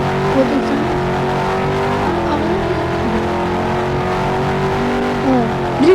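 In the Roblox Taxi Boss game, a Mercedes car's engine drones steadily at high revs while it drifts, with a brief tire squeal near the end, loud and close throughout.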